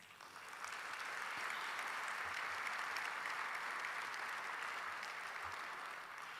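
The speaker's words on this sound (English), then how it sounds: "So join me in giving Mark Turo a round of applause" At the opening of an annual meeting, an audience gives a steady, even round of applause. The clapping sounds distant and quiet, swells in after a moment and carries on with no talking.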